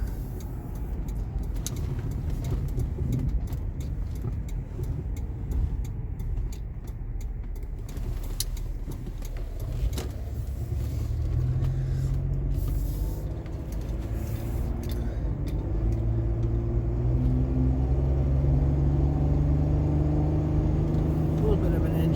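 Steady engine hum and road rumble from inside a moving Oldsmobile Aurora, with engine pitch rising gradually as it accelerates; a faint voice briefly present.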